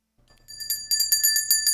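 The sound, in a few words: bell rung to celebrate a Yankees series win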